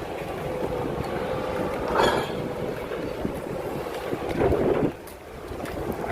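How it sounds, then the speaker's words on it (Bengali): Steel boat moving on open water, a steady rushing wash with wind buffeting the microphone and a few louder splashes, no voices. "এই যে বোট স্টিল বোট"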